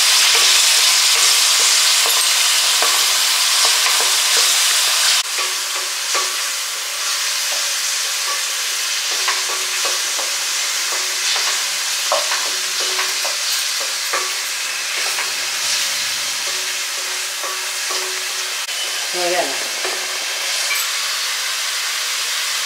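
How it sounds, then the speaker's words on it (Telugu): Ginger garlic paste frying in a pan while being stirred, for a Pulasa fish curry: a loud, continuous sizzle with soft scraping stirs running throughout, no talk. "అల్లం వెల్లుల్లి పేస్ట్, అల్లం వెల్లుల్లిపాయలు పేస్ట్. ఇది కూడా పచ్చివాసన పోయే వరకు వేయించుకోవడం."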